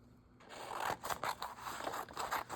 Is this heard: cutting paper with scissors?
yes